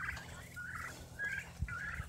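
Turkeys on a homestead gobble in a rapid series of short, warbling calls, faint and somewhat distant, with several gobbles repeating through a couple of seconds.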